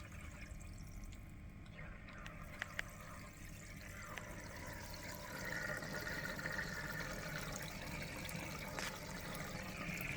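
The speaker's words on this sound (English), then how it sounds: "And that's the filter with the aerator on." An inexpensive aquarium filter with its aerator on runs in water, giving a steady, close bubbling and trickling wash that holds evenly throughout and swells slightly toward the end.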